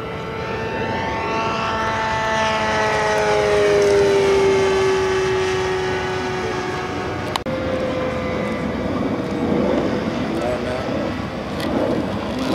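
An F-105 Thunderchief RC pusher jet flies at an Ace In The Hole event in Las Vegas, with a loud whining engine tone sliding down in pitch as it passes, then fading, while people talk nearby.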